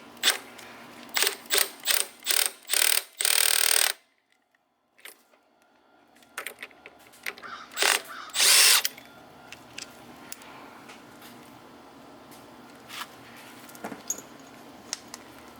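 Clutch nut being worked off a Honda ATC70 three-wheeler with a 24mm clutch socket, a string of close, sharp ratcheting and metallic clicks in bursts, then a quiet pause and scattered clinks of tools and parts.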